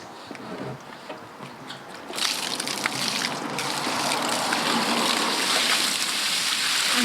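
Water draining out of a VW camper van's water tank: a steady rushing and splashing flow nearby that grows louder after a couple of seconds and keeps going.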